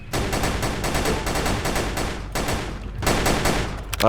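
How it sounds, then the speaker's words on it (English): Rapid bursts of rifle fire crack in a battle royale video game, dense automatic volleys in two long strings with a short pause between them, loud and close. "we are shooting Luckman in the head, and it's not doing anything"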